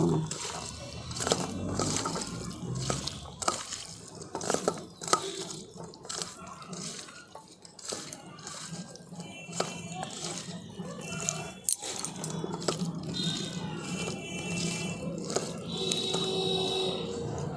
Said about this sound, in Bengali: সর্ষের তেল দেখুন এই সমস্ত মশলাগুলোকে আমি খুব ভালো করে একসঙ্গে মিশিয়ে নেব